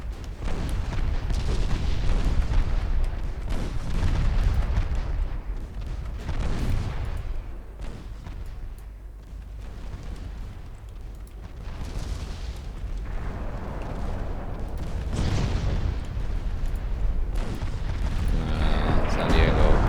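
Naval guns fire at the ship Penguin in Ultimate Admiral Dreadnoughts, a 1953 Italian campaign battle, heard as repeated loud booming salvos with rumbling echoes that swell, fade and return over a steady low background.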